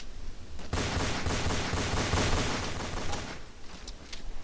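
Dense bursts of rapid gunfire and grenade blasts in a competitive shooter match, loud and sustained for a few seconds before tapering into scattered quieter shots, with no talk.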